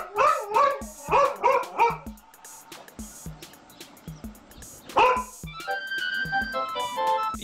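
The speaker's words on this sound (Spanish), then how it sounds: "a una chica le sale una manada de perro" Several dogs bark and yip in quick bursts, some close and loud, as a pack goes after a girl outdoors, followed by quieter whimpers and a higher-pitched tone near the end.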